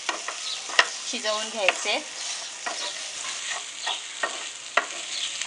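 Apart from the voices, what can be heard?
okra being stir-fried in an uncovered pan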